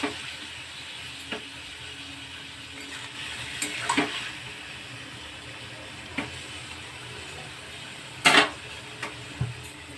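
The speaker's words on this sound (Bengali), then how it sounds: "এবার একটু জল দিয়ে দেব।" Water is poured into dry cabbage frying in a pan. It makes a steady sizzle and bubbling hiss, with a louder splashing burst partway through and a few light clinks.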